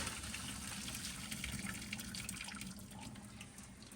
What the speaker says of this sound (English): I'm just going to drain the rest of that water off of it.